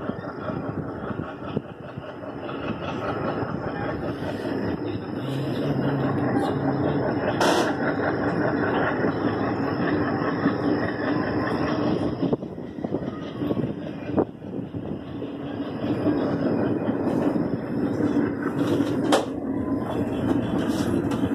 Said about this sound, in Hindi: अभी भी सिग्नल हुआ है तो ट्रेन चल पड़ी है